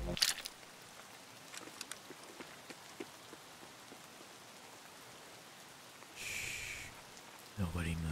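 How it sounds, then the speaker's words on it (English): Steady rain patters across the ground in the shooter game Escape from Tarkov, a continuous soft hiss with a few scattered drops and a brief burst of louder noise near the end. "It's really raining now."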